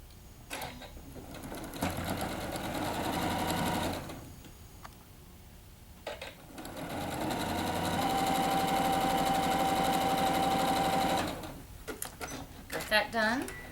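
Sewing machine stitching a quarter-inch seam on a quilt sampler block, two bursts of steady mechanical whirring separated by a pause, with a person talking in between.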